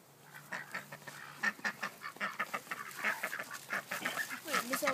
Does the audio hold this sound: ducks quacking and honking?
yes